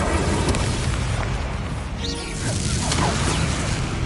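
Incendio fire spell cast in Hogwarts Legacy, a loud, dense roaring burst of flame and crackle filling the whole moment, with a brief dip and swell in the middle.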